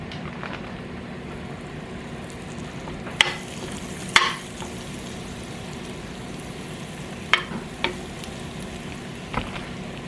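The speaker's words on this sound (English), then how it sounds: "we're gonna just drop the stick of butter inside of here" A stick of butter melting in a warm pot, a faint steady sizzle with a few sharp clinks and taps of a utensil against the pot scattered through it.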